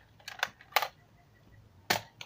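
A Nerf blaster fires foam darts at a tree outdoors, giving a few sharp, close snapping pops spaced unevenly, with quiet gaps between shots.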